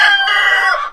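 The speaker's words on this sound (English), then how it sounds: "These roosters are driving me crazy." A rooster in a chicken coop gives one loud, close crow lasting about a second, strong and sustained before trailing off at the end.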